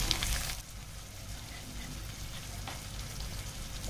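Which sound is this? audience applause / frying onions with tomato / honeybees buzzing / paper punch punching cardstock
frying onions with tomato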